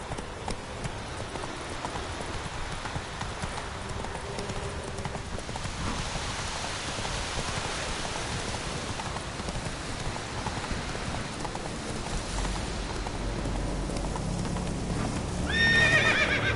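Roach, a horse in The Witcher 3, galloping through rain, a steady patter of rain and hoofbeats under a soft wash of noise, closing with a loud neigh near the end.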